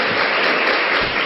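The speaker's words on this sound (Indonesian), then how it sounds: "Ya, tepuk tangan buat Anda." Audience applause in a seminar hall, a dense, loud wash of clapping filling the short moment without a break.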